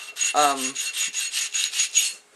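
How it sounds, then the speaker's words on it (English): Obsidian arrowhead edge scraped against a small sharpening stone, about a dozen quick rhythmic rasping strokes, close and crisp, with a brief tonal squeak near the start. "sharpen the edge, right, and it gets like a little powder on there, so your tool doesn't slip"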